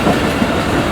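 The Karachi Express passenger train rolls along the rails into Bhagalpur, a loud, steady rumble with a dull clatter of wheels, heard from on board with no voices.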